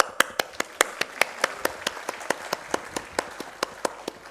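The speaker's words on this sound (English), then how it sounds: "Please clap." Audience clapping at a medical summit in Mumbai: steady, evenly spaced rhythmic claps in a slow beat, somewhat distant and moderately quiet against room murmur.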